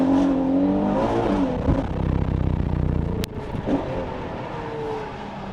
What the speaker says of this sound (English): Engine-wise, exhaust-wise, it's very subtle.